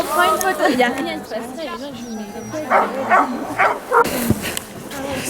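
Sled dogs being readied in falling snow on a mountain outing yelp, whine and bark in a busy, overlapping chorus close by, with people talking over them throughout.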